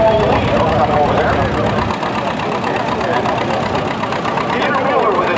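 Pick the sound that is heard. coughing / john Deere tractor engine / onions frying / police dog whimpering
john Deere tractor engine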